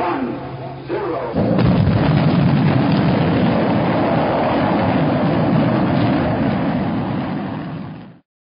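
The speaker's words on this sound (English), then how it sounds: "A rocket ship." A deep, roaring rumble builds suddenly after a brief lead-in and holds loud and continuous, like a rocket engine blasting off, before cutting out.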